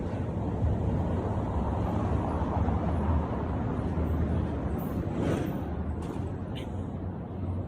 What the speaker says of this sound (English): for some reason there's a ton of traffic going on in my little town right now.